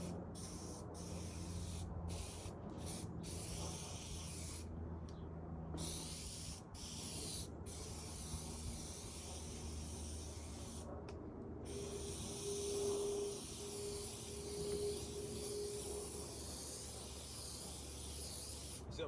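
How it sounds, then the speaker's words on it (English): Short hissing bursts of spray contact adhesive, applied to the edges of an EPDM rubber roof, repeat at irregular intervals, close and fairly quiet, with handling noise between. "And again, keeping it short, spraying the edges."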